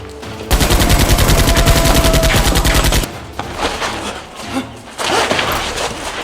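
Nerf guns fire in a rapid, continuous burst of loud mechanical shots for a few seconds, followed by scattered thuds and clatter, then another burst near the end.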